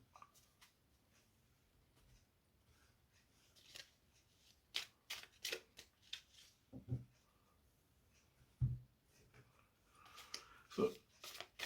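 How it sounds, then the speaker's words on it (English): A deck of tarot cards is shuffled by hand in quiet, soft bursts of riffling and sliding, faint and close, with brief pauses between them. "let me shuffle all the cards in front of me"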